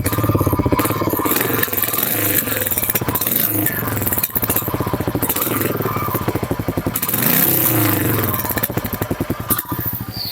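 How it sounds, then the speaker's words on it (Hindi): A Royal Enfield Goan Classic 350 motorcycle idles and revs up close, its deep, bassy single-cylinder exhaust thumping in a steady, loud pulse with a few blips of throttle. "इसका एग्जॉस्ट नोट मेरे को तो बहुत अच्छा लगा।"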